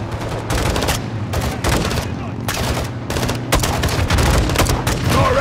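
Dense rifle gunfire and launcher blasts ring out during a firefight in the 2022 Call of Duty Modern Warfare II campaign, near and loud in continuous bursts, with shouted voices between shots.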